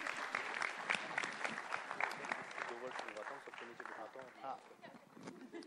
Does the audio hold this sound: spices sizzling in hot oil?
no